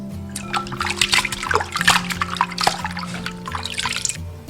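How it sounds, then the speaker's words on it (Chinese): Eel pieces rinsed by hand in clean water, giving continuous close sloshing, splashing and trickling, with irregular bursts of movement in the water over a low steady hum. "再用清水淘洗干净。"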